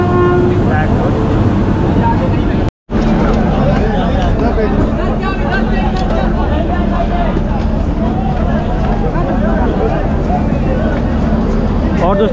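Prayagraj Express train rolls into platform 14, a continuous loud rumble of wheels and carriages under busy station crowd chatter, with people talking nearby throughout.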